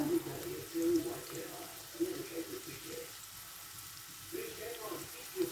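Onion and garlic sizzling in a frying pan, a soft steady crackle with a low bubbling texture, with someone speaking over it.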